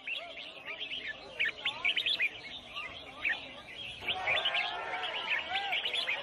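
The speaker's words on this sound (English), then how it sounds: "people have gathered to sell exotic birds, illegally captured in the rainforest, sold for the highest bid, and here, participating in a bird singing competition" Exotic rainforest birds, caught wild and brought to an Asian marketplace, sing in a bird singing competition: many overlapping chirps, whistles and trills, dense and continuous, with a busier chorus of songs toward the end.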